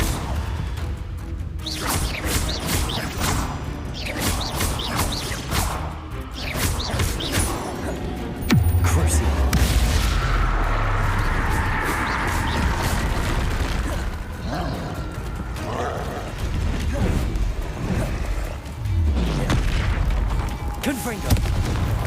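A Confringo explosive spell blast in the Hogwarts Legacy video game, heavy booming impacts and whooshing bursts over a dense, loud game soundscape lasting throughout, with a voice talking at times.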